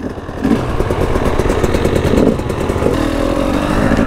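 An enduro motorcycle engine runs loud and close throughout a wet, muddy woodland play-day ride, its steady drone broken by revving surges and mechanical clatter.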